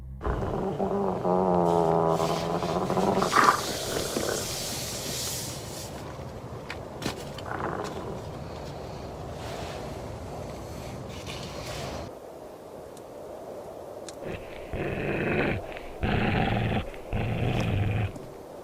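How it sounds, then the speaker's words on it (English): Low, rumbling growls from wild canids outside a tent at night rise and fall over several seconds, close and fairly loud, with rustling and scattered knocks around them. "There's something growling at me."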